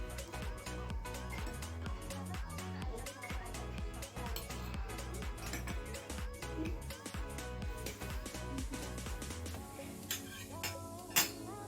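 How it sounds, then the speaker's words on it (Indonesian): A metal spoon clinks and scrapes against dishes and containers while soaked potato pieces are drained in a chemistry lab, a busy run of close clatter and chinks with faint sounds of handling. "kita tiriskan menggunakan sendok."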